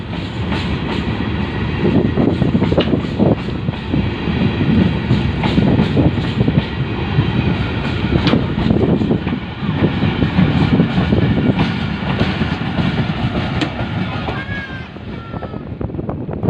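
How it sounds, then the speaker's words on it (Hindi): The Tezgam Express rolls by loudly and steadily at Bahawalpur railway station, Pakistan, with rhythmic clattering of wheels on rails and some wind buffeting, continuous for the whole stretch. "अभी थोड़ी देर में 7 अप तेज़गम एक्सप्रेस बहावलपुर स्टेशन पर आने वाली है"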